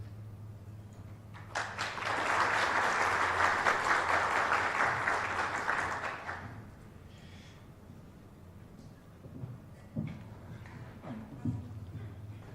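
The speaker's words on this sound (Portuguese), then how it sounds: "peço a todos uma salva de palmas para receber nosso convidado especial" An audience in a Brazilian talk event claps together in a burst of applause that swells quickly, holds for several seconds and then dies away, followed by scattered quieter sounds.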